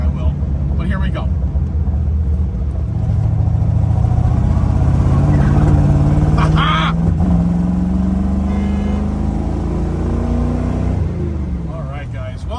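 A 1964 Corvette Stingray with a 327 cubic-inch 300-hp V8 pulls hard through a turn, its loud, close engine note climbing steadily in pitch as it accelerates before easing off near the end.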